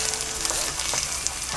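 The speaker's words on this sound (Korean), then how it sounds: "여기에 배추를 담갔다 빼서 기름에 굽기만 하면 되거든요" Battered napa cabbage fries in hot oil with a steady, dense sizzle and crackle, heard close up and alone with no talking.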